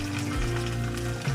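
Garlic and onion frying in a hot pan, a steady close sizzle with a low hum underneath, heard alone without talk.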